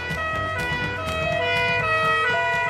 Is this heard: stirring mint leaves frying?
no